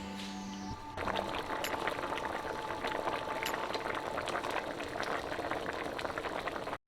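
Potatoes boil in a pot of water, a steady rolling bubble that runs continuously and fairly close, with a brief clink near the start before the boil takes over.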